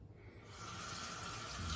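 Running water rinsing shaving soap lather off, a faint quiet start giving way to a steady hissing flow for the rest of the moment.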